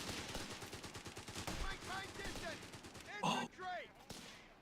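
Rapid machine gun fire in the strategy video game Company of Heroes 3, a dense rattle of bursts mixed with other battle noise, with a voice commentating over the action.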